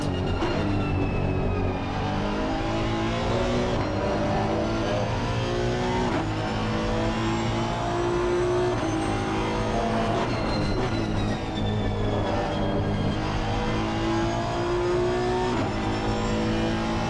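Onboard engine of a Honda race car in a sim racing game at the Spa endurance round, a loud continuous whine that rises and drops through gear changes, with no talk over it.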